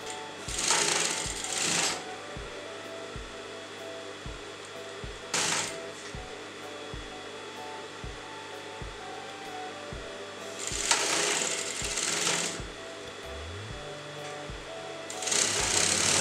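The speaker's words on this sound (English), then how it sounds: "you're going to place this canvas on top of this, and you're going to sew that together" A sewing machine stitches canvas interfacing onto fabric in several loud bursts of rapid mechanical clatter, separated by quieter stretches with a steady low hum and soft clicks; no speech.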